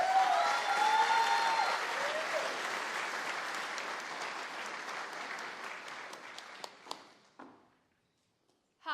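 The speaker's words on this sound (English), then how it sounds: "I reckon we do another round of applause, just finish them all." A round of audience applause at a summer startup showcase, dense clapping from a crowd with a few voices calling out early on, thinning into scattered individual claps before fading to silence near the end.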